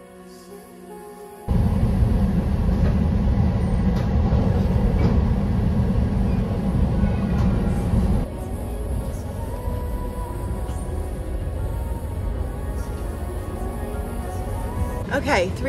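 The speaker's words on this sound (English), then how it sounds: "3 hour train ride later" Steady rumbling of a train rolling along the rails, loud and continuous, shifting slightly in tone partway through, with faint talk in the background.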